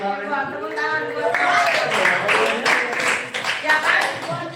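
A classroom of students clapping their hands together, a dense, steady round of applause mixed with voices and cheering, loud and close throughout.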